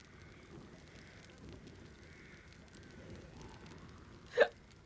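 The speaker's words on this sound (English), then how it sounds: "got a wee bit of the hiccups" A single sharp hiccup sounds near the end, a brief, clear yelp that stands out against faint background hiss.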